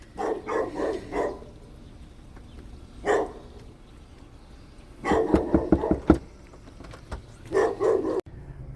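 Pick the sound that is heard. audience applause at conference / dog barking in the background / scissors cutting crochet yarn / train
dog barking in the background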